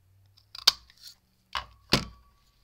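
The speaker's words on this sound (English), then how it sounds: "Scissors to trim that down." Scissors snip through paper during a papercraft banner project, a few short sharp cuts in quick succession, close and fairly quiet, with no talking.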